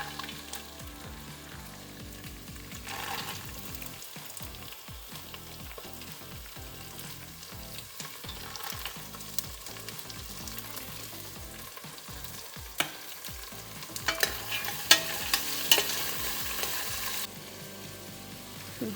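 Legumes frying and being stirred in a hot pan while cooking mixed vegetable pulao, a steady close sizzle running throughout with scraping stir strokes and small pops, no voices.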